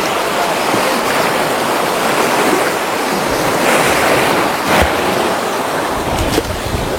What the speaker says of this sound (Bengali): সমুদ্রের জলের এত ঢেউ